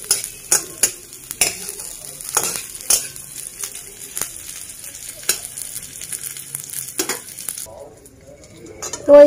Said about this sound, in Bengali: আমি কটা রসুনের কোয়া ছাড়িয়ে এই যে একটু ভেজে নিচ্ছি।